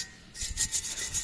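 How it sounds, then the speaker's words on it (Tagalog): A hand tool scrapes and rasps against a motorcycle chassis in short repeated strokes, stripping paint down to bare metal. It is close and fairly quiet, with no voices. "pagtatanggal ng pintura sa chassis o pag-strip to metal"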